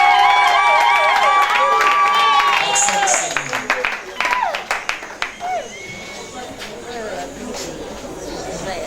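Guests at a celebration applaud a couple, scattered claps and cheers rising from a crowd amid lively chatter, with people talking and calling out over the clapping.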